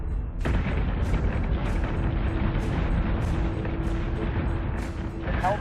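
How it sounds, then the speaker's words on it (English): Sustained artillery barrage and gunfire in a Battlestar Galactica space combat game, with repeated heavy booms every second or so over a continuous rumbling roar and a steady tone. "We're taking fire."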